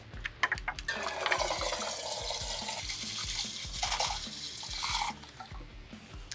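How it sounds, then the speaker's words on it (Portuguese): Mineral water pours into a home-brewing pot from a BIAB beer kit, a steady splashing gush with low thuds from the pot that fades out near the end, close up, with no talking. "Colocamos 15 litros de água mineral dentro da nossa panela."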